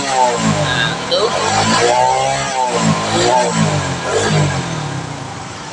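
A car engine is revved repeatedly while its battery charging voltage is checked with a meter, rising and falling surges of mid-pitched engine roar heard close, with someone talking over it.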